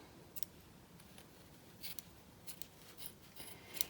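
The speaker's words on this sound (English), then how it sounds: "And then just cut it open." Quiet, close snipping of scissors cutting through a finger-knitted wool pom-pom, several faint irregular snips against low background hiss.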